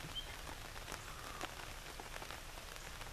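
Steady patter of rain drumming on a taut hammock tarp overhead, dense scattered drops, fairly quiet and continuous with no one speaking.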